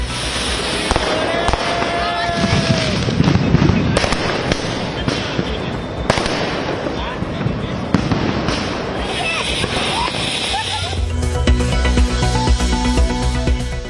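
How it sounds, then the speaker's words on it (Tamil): Firecrackers bursting during Diwali celebrations in Tamil Nadu, a dense stream of sharp cracks and pops echoing throughout, with a crowd murmuring underneath and a busier crackle near the end. "பட்டாசுகள் வெடித்து மக்கள் மகிழ்ச்சி"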